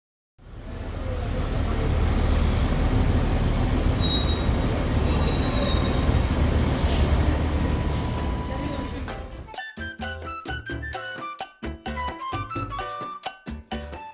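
Buenos Aires metro train ride: a loud, steady roar of the carriage running for about nine seconds, then it drops away to quieter cabin sound with sharp clicks and a voice speaking over it.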